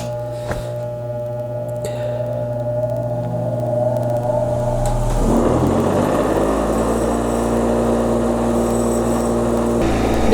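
A bench grinder secured to a work table starts with a click and spins up into a loud steady motor hum, with a rising whine that settles into a continuous rattling vibration.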